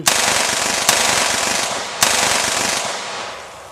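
Sustained automatic gunfire sprays nearly 70 rounds at a Toyota car stuck nose-first in a water puddle, a loud continuous dense rattle with two sharper bursts punctuating the roar, no voices.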